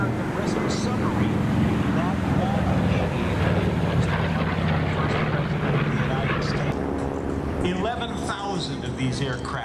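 A Grumman TBM Avenger, a WWII torpedo bomber, flies past at an airshow at Jones Beach, its engine roar loud and steady throughout with a narrator talking over it.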